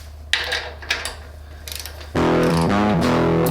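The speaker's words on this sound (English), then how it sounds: "then you can go ahead and finish tightening up your steering box bracket itself" A ratchet tightens steering box bolts on a 1995 Jeep YJ: a few sparse clicks, then a quick run of ratcheting, before a loud, steady droning tone takes over for the rest.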